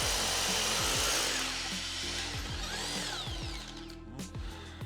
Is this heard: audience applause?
no